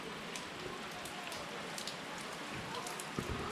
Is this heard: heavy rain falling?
yes